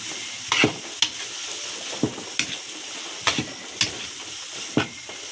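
Pancit noodles frying in plenty of oil in a wok with cooked meat, a constant hissing sizzle punctuated by clanking strokes of a spatula tossing the noodles, near and fairly loud.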